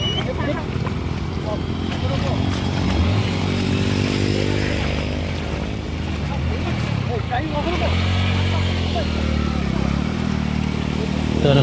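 Motorcycles riding through a flooded road on the Devgad–Jamsande route after heavy rain, their engines droning steadily with splashing water, rising and falling as bikes pass, while someone talks over it.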